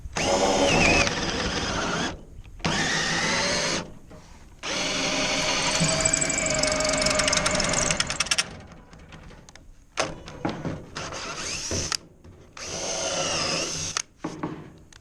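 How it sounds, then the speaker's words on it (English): A power drill whirs in several long bursts through wood, each winding down into short stuttering pulses and brief clicks, loud and close with pauses between. "I'm just gonna drill through"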